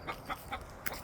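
Chickens clucking and calling softly while roosted in a tree at dusk, a rooster among the flock; several short, faint clucks spaced through the moment, with a slightly sharper call near the end.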